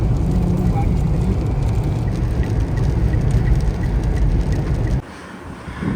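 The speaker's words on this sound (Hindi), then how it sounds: "बारिश हो ही रही है।" Heavy rain pours down steadily in a dense, loud wash that continues unbroken, then drops sharply to a quieter patter near the end.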